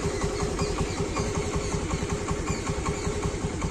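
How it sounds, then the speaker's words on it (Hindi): Honda Activa scooter engine idling steadily with the hand brake engaged and the rear tyre locked, a loud close, even putter with rapid regular pulses throughout and no talking. "आवाज़ आप सुन सकते हैं इंजन की।"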